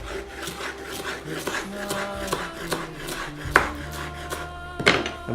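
A knife chops fresh coriander on a board, a steady series of quiet, close scraping and tapping strokes with a few sharper knocks, no talking.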